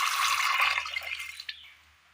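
Water pours into a pressure cooker holding soaked chickpeas and coconut pieces, a close, bright splashing stream that runs steadily, then thins into a few drips and stops as the pour ends.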